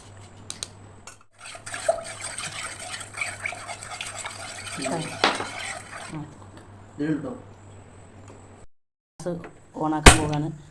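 Custard being stirred in a non-stick pot, a spoon scraping and swishing in uneven strokes up close, with occasional clinks against the pan and brief voices in between.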